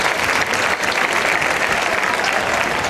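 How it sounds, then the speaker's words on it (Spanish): A festival crowd at a village capea in Caparroso, Navarra, claps loudly and continuously for a participant, dense applause filling the whole stretch with no voices on top. "Fuerte aplauso para él."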